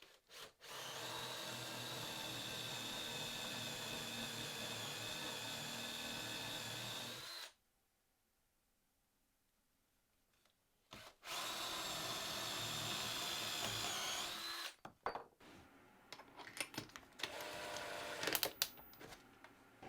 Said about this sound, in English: first I'm going to drill down with a Forstner bit about halfway through this board